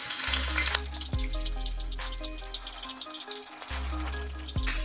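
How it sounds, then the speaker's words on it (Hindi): Chopped green chilies sizzle and crackle steadily in hot oil for potato pickle, close up, with occasional stirring clatter and no talking. "अब इसमें भूनेंगे ये कटी हुई हरी मिर्च,"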